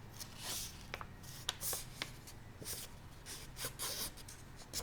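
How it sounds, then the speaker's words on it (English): Paper is folded along a line and creased flat, heard close up as rustling swishes, brisk rubbing strokes and a few sharp crinkles in an uneven rhythm with no talking. "you're going to fold on that line. Crease it."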